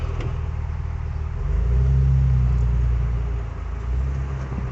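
A 2003 Jeep Wrangler Rubicon TJ engine rumbles while driving, a low, steady drone that swells as it revs a little, then settles, heard from inside with no talking.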